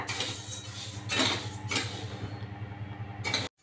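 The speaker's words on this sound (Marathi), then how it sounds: "गहू आणि बाजरी, हे एकत्र भाजायचं" Wheat, pearl millet and sorghum being dry-roasted together in a pan for thalipeeth flour: a steady scraping and rattling of grain against metal, with several louder stirring bursts, close by and with no talking.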